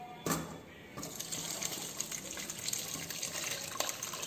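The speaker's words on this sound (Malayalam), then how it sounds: "നമുക്ക് ഇനി പാത്രത്തിലോട്ട് അരിച്ചൊഴിക്കാം." Strained homemade pomegranate wine is poured into a vessel, a steady soft liquid trickle and splash with a few sharp clinks, continuous and close at low volume with no talk.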